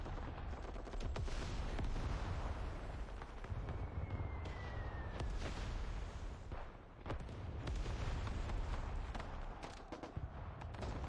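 Rocket launchers and tanks fire in a video game battle between a fully enhanced 8.0 rocket launcher and a 7.2 medium tank, with dense repeated blasts and crackling explosions layered continuously and fairly loud.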